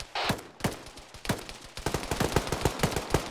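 A DShK heavy machine gun firing in a video game: a few spaced heavy shots, then a rapid steady burst of loud, close reports, with no voices.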